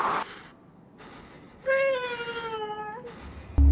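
A cat in the video game Conarium lets out a long, drawn-out, slightly falling meow, clear and close, with short bursts of other game noise before and after it.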